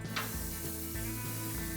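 Beef burgers of 85/15 grind sizzle on a Monument Mesa II gas grill, giving a steady broadband frying hiss that continues without a break, with a low hum underneath.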